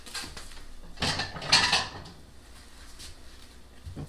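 A white plate is taken from a kitchen cupboard and handled, giving clattering knocks of crockery and a louder rattling clink in the middle, then quiet room tone.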